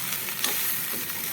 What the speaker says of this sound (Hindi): पहले मैं इसको अच्छे से फ्राई कर लेती हूँ